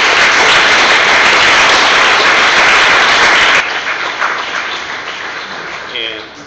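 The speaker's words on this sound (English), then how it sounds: "let's give a round of applause to Kenzan for hosting this" An audience at a tech community panel discussion breaks into loud, full applause that drops abruptly to a thinner, fading patter about halfway through.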